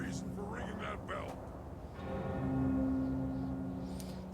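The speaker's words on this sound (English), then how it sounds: "Sky better have a good reason for ringing that bell." A bell rings in the martial-arts RPG Jade Empire, a sustained resonant tone that swells and holds after a character speaks, with steady ambient game noise underneath.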